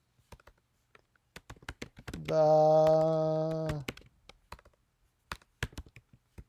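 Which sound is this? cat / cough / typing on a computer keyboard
typing on a computer keyboard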